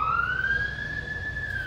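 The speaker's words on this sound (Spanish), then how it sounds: "todo el día ha estado pasando las ambulancias y los bomberos" An emergency vehicle siren, from an ambulance or fire engine passing outside a home, holds a steady rising wail with no talking, fairly clear but somewhat distant.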